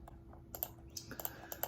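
Rapid keyboard shortcuts being typed on a computer keyboard while working in a spreadsheet, a quick irregular run of close, light key clicks and taps.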